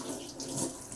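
Water runs into a cooking pot, a soft steady pouring hiss for about a second, close and fairly quiet with no talk.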